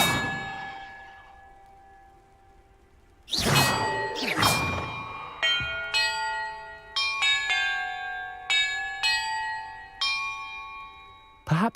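Bells ring in a puzzle in the video game Hogwarts Legacy. A fading tone gives way to a whooshing clang, then a series of bright metallic strikes at irregular intervals, each ringing and decaying before the next.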